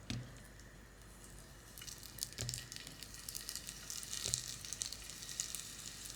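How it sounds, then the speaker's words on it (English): Crab gyoza fry in a hot pan with a quiet, steady sizzle and crackle, broken by a few sharp pops and spatters as it builds slightly louder toward the end. "get them really nice and browned, and then we're going to tip some water in there and then just cover it, so make sure it steams it"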